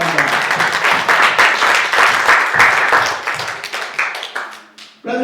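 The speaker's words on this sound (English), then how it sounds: "Let's give one more quick clap of praise to our God." A church congregation claps in praise during a sermon, dense loud applause from the room that thins into scattered claps and fades out near the end.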